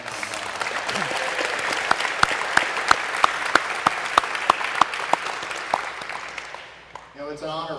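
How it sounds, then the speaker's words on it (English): Audience applause at a World War II museum opening reception in New Orleans, a dense, sustained crowd clapping with a few sharp individual claps standing out, fading near the end as a voice begins speaking. "Let's give a clap for those who are watching online."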